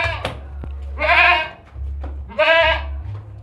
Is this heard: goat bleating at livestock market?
yes